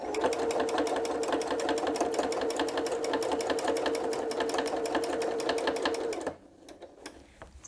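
A sewing machine runs steadily while stitching a wavy quilting line through a quilt, its fast, even needle rhythm loud and close for about six seconds before cutting off into a few faint handling clicks.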